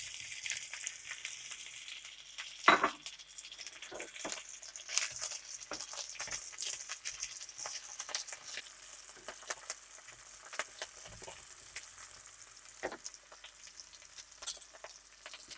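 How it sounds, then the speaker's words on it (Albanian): Small pieces of sausage fry in a pan with a steady soft sizzle and occasional pops, one sharper clatter near the start, alone without talk. "Po filloj me skuqjen e sallamit."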